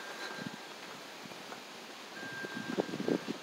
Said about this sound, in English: this wind is coming directly from the mountain, and that's why it's strong and gusty